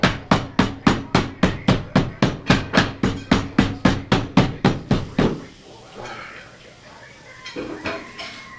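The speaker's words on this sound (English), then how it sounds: "Let the hammer do the work." A rapid, steady series of about twenty heavy thuds as a hammer pounds meat thin on a board for roll-ups, then the pounding stops and quieter kitchen sounds follow.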